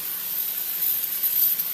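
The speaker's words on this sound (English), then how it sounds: "spray it real good with starting fluid" Starting fluid sprays from an aerosol can into the air intake of a Craftsman lawn tractor with the filter cover off, a short steady hiss up close.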